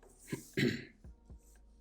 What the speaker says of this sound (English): Sorry if I cough a lot, I have a bit of a cough.